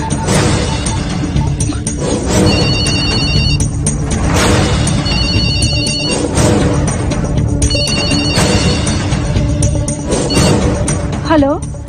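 A telephone rings in a dramatic film scene, its electronic ringtone repeating in several bursts over loud background music and sound effects.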